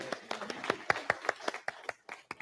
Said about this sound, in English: let's hear some applause for all of us up here